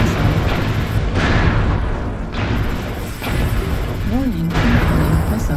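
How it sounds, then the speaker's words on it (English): Artillery strike explosions in a mech combat video game, heavy booming blasts rolling one after another over dense battle noise, with a synthetic warning voice speaking over the din. "Artillery strike activated."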